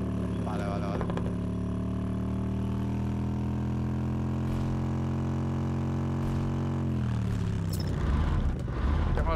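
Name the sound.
motorcycle engine in video game Undawn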